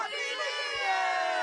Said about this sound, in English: we got a big crowd of people too